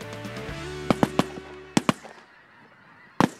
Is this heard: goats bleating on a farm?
no